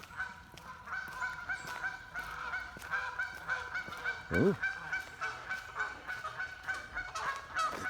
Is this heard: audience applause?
no